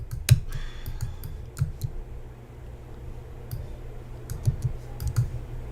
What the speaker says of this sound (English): she pounds on a keyboard